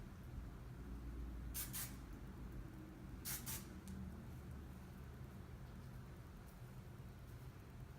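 A hairspray can gives two short, faint hissing spurts a moment apart, set against a steady low background rumble.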